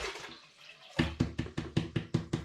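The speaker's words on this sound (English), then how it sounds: "I'm going to begin by emptying 5 litres of spring water into this big pan." Five litres of spring water emptied into a big brewing pan for a chocolate stout, heard as a soft pour followed by a quick series of loud, rhythmic glugging splashes, close and without speech.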